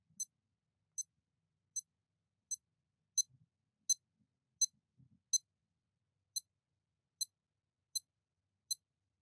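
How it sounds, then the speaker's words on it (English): A series of short, high, thin electronic beeps from a genuine Casio F91W digital watch, about a dozen, evenly spaced under a second apart in near silence. "So the beep on a Casio sounds like this."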